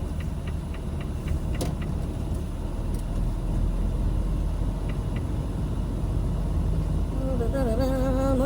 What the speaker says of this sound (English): More trucks are coming in.